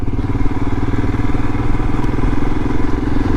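Royal Enfield Himalayan motorcycle engine running steadily while riding along a coastal road, a loud continuous throbbing drone with rhythmic low pulses and wind rush throughout, no talk.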